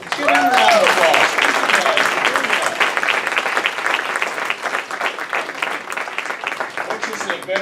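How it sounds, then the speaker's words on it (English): A school audience breaks into loud, sustained applause for JAG program participants from Harmon and Schlagle high schools, dense clapping that stays strong throughout with a voice briefly heard at the start. "Let's give them a round of applause."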